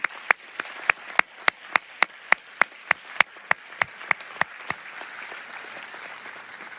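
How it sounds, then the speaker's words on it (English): A slow, evenly spaced clapping rings out at a College of Pharmacy convocation, about twenty sharp, distinct claps in a steady rhythm before fading into quiet room murmur. "Please join me in a round of applause"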